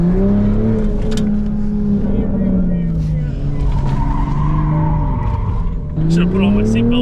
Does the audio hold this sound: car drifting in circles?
yes